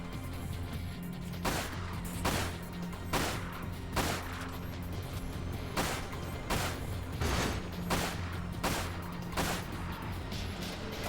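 Fireworks going off outside, heard as a steady run of sharp cracks and pops spaced roughly a second apart, moderately loud over a continuous low background rumble.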